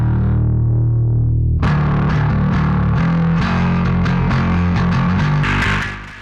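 Bass guitar played through a drive pedal with Melt and Brute controls, a thin clean note giving way to a loud, thick distorted line of repeated plucked notes that stays gritty and full throughout.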